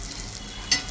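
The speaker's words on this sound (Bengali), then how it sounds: "এটাকে একটু ভালোভাবে ভেজে নিচ্ছে আমার ভাই" French toast frying in a pan, a steady soft sizzle that swells briefly near the end, with no voices.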